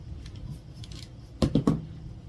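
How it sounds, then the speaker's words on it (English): Scissors snipping around fabric pieces laid on fleece for a quilt block, with a soft rustle followed by three crisp, close cuts in quick succession. "And then just cut around the whole thing."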